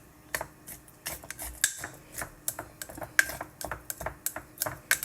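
A butter knife stirring a home cough remedy inside a glass jar, producing a quick irregular series of light clinks and taps, close and fairly crisp, with no voices.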